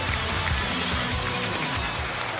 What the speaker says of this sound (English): Nice ovation from the crowd.